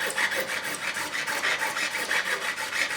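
A metal file being cleaned after leveling guitar frets during a refinish of an Edwards E-EX-125D Explorer makes close, rhythmic rasping strokes, about a dozen quick scrapes in an even back-and-forth pattern.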